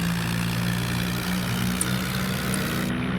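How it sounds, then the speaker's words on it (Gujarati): A turbo-engined tractor in a 3D Indian farming simulator game runs with a steady, loud low drone and constant mechanical hum for the whole stretch, with no talking. "આ ટ્રેક્ટર છે ટર્બો એન્જિનનું"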